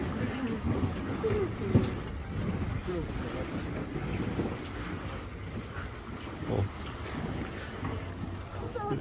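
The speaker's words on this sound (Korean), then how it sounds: "배가 지나가니까 다리가 막 흔들려요." A small boat's motor rumbles nearby on the sea at Mokpo, with gusty wind buffeting the microphone and lapping water, and steady low engine noise throughout.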